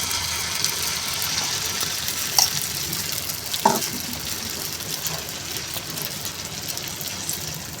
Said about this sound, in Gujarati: હવે આપણે બેટર એડ કરીશું.